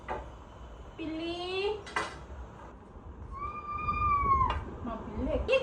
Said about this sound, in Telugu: చిన్న పిల్లిని ఎవరైనా చూసారా?